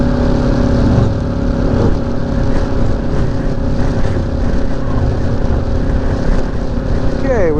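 A 2018 Kawasaki Ninja 400 KRT motorcycle engine drones steadily at cruising speed on the Foothills Parkway, with constant wind rush over the microphone and a brief whine near the end.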